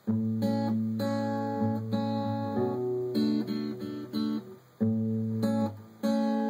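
Fingerpicked acoustic guitar chords ring out clearly, plucked strings arpeggiated in a steady rhythm with chord changes, played alone and close.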